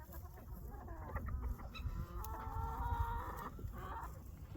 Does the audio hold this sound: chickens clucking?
yes